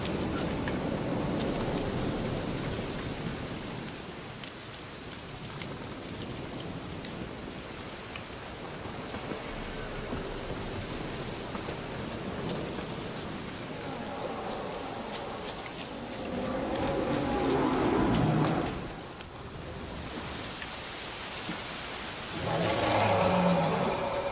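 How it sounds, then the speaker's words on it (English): Steady rain falls in The Witcher 3, a dense hiss throughout with low rumbles of distant thunder swelling twice near the end. "Looks like rain."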